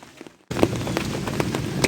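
Rain begins falling abruptly after a brief quiet moment, a dense steady hiss with scattered louder drops pattering on a surface nearby.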